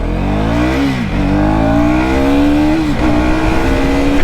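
A KTM Duke 250 Gen 3 motorcycle accelerates hard on a top speed run, its engine note climbing loud and close in long rising pulls broken by two brief dips at gear shifts, alone without any talk.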